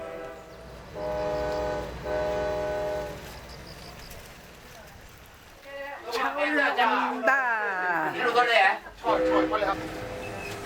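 A tourist train pulls into the small Yangwon station on the Yeongdong line, sounding a sustained horn, then clanking and squealing wheels as it slows, with people talking over the rail noise.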